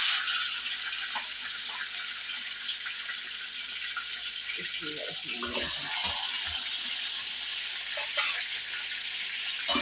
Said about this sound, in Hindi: अब हम जो चिकन है इसको फ्राई कर लेंगे